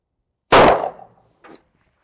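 A single loud 10mm pistol shot fired outdoors in cold weather across a chronograph, with a sharp crack and a short decaying tail, then a brief fainter metallic echo about a second later, alone with no talk.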